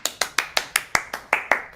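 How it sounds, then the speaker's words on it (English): Steady clapping of a few hands, about nine sharp claps at an even, quick rhythm, close by with no talking. "big round of applause, everybody"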